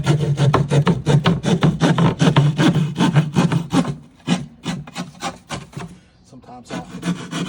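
Ceiling drywall being cut by hand around a small speaker opening during a water-damage repair, a close, loud series of rapid rasping saw strokes in steady rhythm that slow and break up toward the end.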